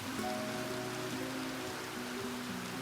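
Steady rain falls in an even, continuous hiss, with faint musical tones underneath and no voices.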